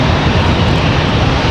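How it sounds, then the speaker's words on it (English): Close, loud jet engine roar of an American Airlines A321neo departing Charlotte, a brief, dense, steady rumble with no voices. "our next departure is headed to Dallas, American Airlines 1709"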